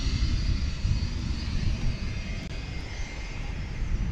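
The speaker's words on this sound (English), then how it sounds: "See if we can catch the last few minutes of the taxiing of this 757, shall we?" A Boeing 757 jet taxiing at Dallas/Fort Worth airport at night gives off a steady, moderately loud engine rumble and hiss that holds evenly throughout, with no voices.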